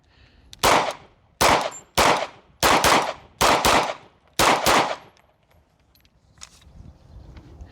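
Rapid strings of CZ P-01 pistol shots at an outdoor shooting range, six sharp loud cracks in quick uneven bursts, then a quiet tail with faint background noise.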